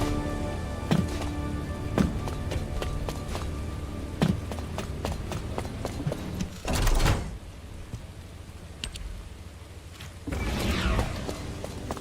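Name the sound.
heavy rain falling, from video game The First Descendant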